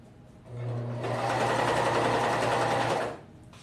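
A sewing machine runs steadily along the seam of an Emma crop tank top, starting after a brief pause and stitching continuously at close range for about two and a half seconds before stopping.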